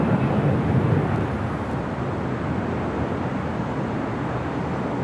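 Heavy airliners arriving to land on the north side at LAX give a steady, distant broadband jet roar, low in level and unbroken for the full stretch.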